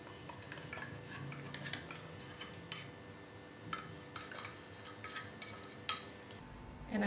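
A spoon scrapes and taps against a bowl as condensed milk is mixed into gulab jamun dough, quiet irregular clinks and knocks close by with no talking.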